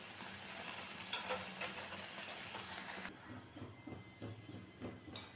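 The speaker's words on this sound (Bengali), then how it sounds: "পুরি বেলে আমি গরম তেলের মধ্যে দিয়ে দিলাম, দিয়ে আমি এখন এরকম ভেজে নেব।" Puri dough frying in hot oil gives a dense, crackling sizzle that is loud at first, then softens partway through, with small bubbling pops and no talk.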